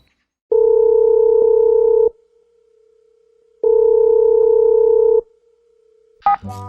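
A telephone line tone sounds while a call is placed: two long steady beeps, each about one and a half seconds, separated by a quiet gap, then a brief clatter at the end.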